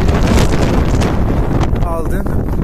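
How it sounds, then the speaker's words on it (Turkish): Strong wind roars high on Mount Ararat around 4600 metres in fog, buffeting the microphone in loud, continuous gusts, with a brief voice faintly heard near the end. "Şu anda rüzgarın hızını artırdı."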